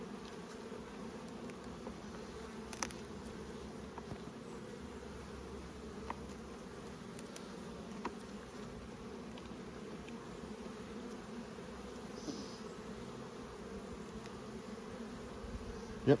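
Dense, steady buzzing of many Buckfast honey bees close by at an open hive, a continuous drone with occasional louder individual bees passing near.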